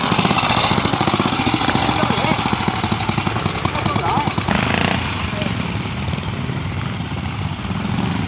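A BSA C15 trials motorcycle at a trials event in Crag Vale, its single-cylinder engine beating in a loud, steady, rapid thump close by, with a voice talking over it.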